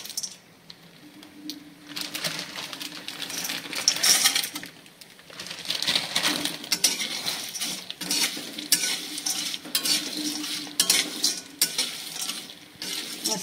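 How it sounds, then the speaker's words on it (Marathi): Black and green cardamom pods roast in oil in a pan with a soft sizzle, while a spoon repeatedly stirs and scrapes them, giving irregular clinks and rattles close by. "आता ही मसाला वेलची आणि हिरवी वेलची मी हे भाजून घेते तेलामध्ये."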